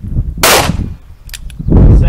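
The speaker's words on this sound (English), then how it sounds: "then we're just gonna do a regular solid flat lead tipped 357 mag cartridge" A .357 Magnum gunshot fired with a solid flat lead-tipped cartridge at a bulletproof airplane window gives one loud, sharp close crack, and a second heavy blast follows near the end.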